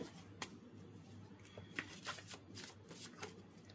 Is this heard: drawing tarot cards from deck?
yes